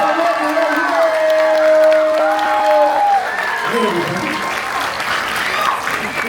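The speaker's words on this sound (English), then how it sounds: "Y'all give them a round of applause!" Audience at a Drake & Josh reunion panel breaks into loud applause with cheering, while an amplified voice talks over the opening seconds and the clapping carries on strongly.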